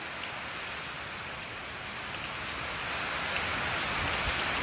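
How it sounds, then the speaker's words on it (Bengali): Heavy rain pours down during a storm, a dense, even hiss of drops on surfaces that holds steady and swells slightly louder toward the end, with no voices. "দেখেছো খালি কতটা পরিমাণ বৃষ্টি হচ্ছে"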